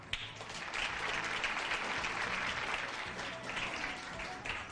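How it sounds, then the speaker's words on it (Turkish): Steady applause from a studio audience at a Turkish quiz show as a contestant is called up after the final scores, filling the whole stretch at an even level with no talk over it. "Cüneyt Bey alkışlarla yanıma davet ediyorum sizi efendim."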